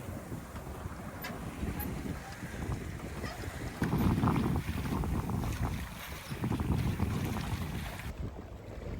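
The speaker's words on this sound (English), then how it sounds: "We are sailing up the east coast of Malta on our way to Gozo." A sailboat under an asymmetrical spinnaker runs up the east coast of Malta. Wind buffets the microphone over a steady rush of water along the hull, loud and continuous throughout.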